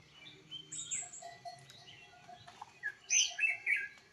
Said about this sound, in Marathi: पक्ष्यांचा आवाज तुम्ही ऐकू शकता बघा